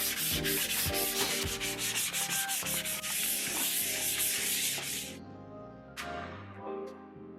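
Sanding along the side panels of a wardrobe in a Seoul apartment bedroom makeover, a steady near, loud rasping scrub with rhythmic strokes, dropping out near the end before a final short rub.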